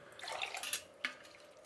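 About four cups of water splash briefly into a cooker holding dal and rice, a short close, soft pour with a few drips.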